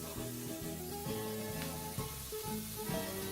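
Soft, steady sizzling of bacon frying in a pan, low in level, with faint tonal background music running underneath.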